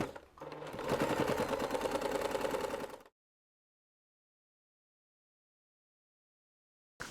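A sewing machine stitches together layered fabric for a hair bow, a loud, dense, rapid run of needle strokes lasting about three seconds before stopping abruptly into silence.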